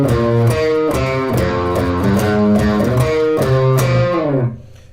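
Electric guitar plays a riff as a run of single notes, each plucked pitch ringing briefly in a steady, loud line before fading out at the end.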